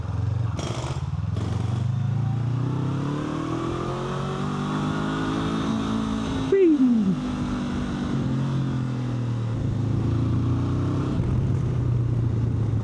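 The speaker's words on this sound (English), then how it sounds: "Bike's actually maybe a little bit louder than I would expect for this style of machine and this type of engine." A 2025 Honda NX500 twin-cylinder motorcycle engine drones steadily at moderate revs close by, with a brief rising whine partway through.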